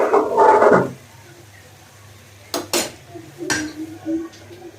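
Rui fish curry stirred in a pan: a loud burst of scraping and clanking metal for the first second, then quiet, followed by a few sharp clinks of a utensil against the pan and softer scraping.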